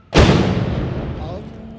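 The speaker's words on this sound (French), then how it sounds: "l'explosion au loin de 2 roquettes" Two rockets explode in the distance in Kabul as a single heavy boom that strikes abruptly and rolls off into a long fading rumble.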